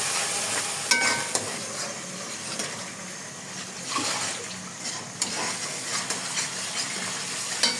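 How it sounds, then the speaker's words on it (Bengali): Spices for a shol fish bhuna sautéing in a pan, steady soft sizzling with occasional stirring scrapes and utensil taps, moderately close and without voices. "আর এখানে মশলা কষাচ্ছি"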